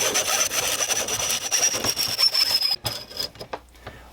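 A hand saw cuts through wood for a lacrosse head stand in quick, rasping back-and-forth strokes, loud and close, before stopping and giving way to a few faint knocks.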